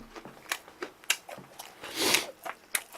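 Crisp, crunchy bites of fried chicken chewed close to the mic, a handful of sharp crackles spaced irregularly, with one longer crunching burst near the end.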